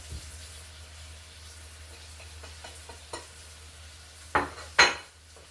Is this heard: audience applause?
no